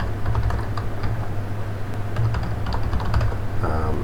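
Rapid, steady clicking of keys as an email is typed on a computer keyboard, with close, continuous keystrokes throughout and no talking.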